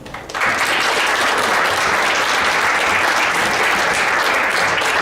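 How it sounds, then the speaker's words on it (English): A crowd bursts into loud, sustained applause, steady clapping that fills the room and continues without letup. "let's have a big round of applause for Paige Peterson."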